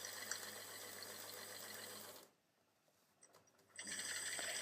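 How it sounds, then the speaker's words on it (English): A sewing machine stay-stitches around a garment neckline, whirring steadily for about two seconds, pausing briefly with light clicks, then starting up again at close range. "start sewing from the opposite shoulder towards the center front again."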